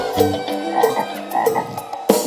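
Rhythmic frog-like croaks sound close and clear in short repeated bursts during a live Isan music concert at a restaurant.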